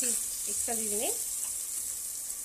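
Long-sliced onion fries in a pan, a soft, continuous hiss of sizzling oil heard at a moderate distance, with a brief voice-like tonal sound rising near the start.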